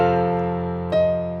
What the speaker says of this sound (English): But let's add a power chord to the F too as well.